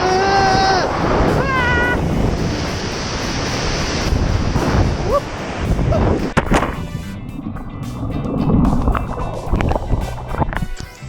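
Ocean waves and gusting wind roar around a SIC Bullet 14 v2 race stand-up paddleboard, with loud, steady wind buffeting the microphone, paddle splashes and water sloshing against the board.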